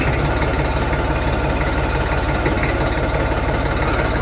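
An old farm tractor engine runs close by at a loud, steady idle, thumping in an even rhythm with a rough, rattling throb.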